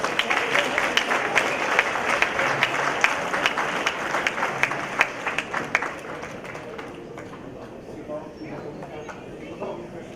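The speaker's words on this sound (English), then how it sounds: "Please, everybody, give her a round of applause." Sustained applause from a gala audience at a charity event for the Friendship Circle, dense clapping throughout that thins slightly toward the end, with scattered voices mixed in.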